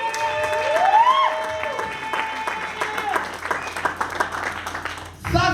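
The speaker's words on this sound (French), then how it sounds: "Can you put your hands together?" A church congregation claps together in steady applause that swells and then thins out toward the end, with music tones and a voice sounding over the clapping.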